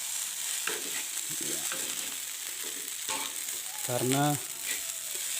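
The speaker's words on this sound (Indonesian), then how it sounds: "Kita masak nasi goreng ala sendiri" Nasi goreng with wild boar meat frying and being stirred in a pan, a steady close sizzle with scraping stir strokes throughout, with brief talk over it.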